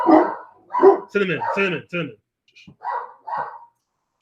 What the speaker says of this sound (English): Excuse the dogs, guys, sorry.